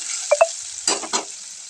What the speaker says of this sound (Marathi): आपल्याला ते सगळं व्यवस्थित परतून घ्यायचं आहे